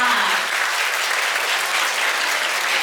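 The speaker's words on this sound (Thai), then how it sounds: "ขอเสียงปรบมือดังๆ ให้คุณโมที่ยืนอยู่ข้างนอกได้ยินด้วยค่ะ" Steady, dense applause from a wedding reception crowd at a hotel fills the whole stretch, clapping loud and even without pause.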